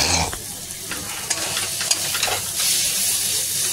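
Tomato curry is sautéed and stirred in a pan, producing a continuous hissing sizzle with scraping strokes, close and fairly loud, with no talk.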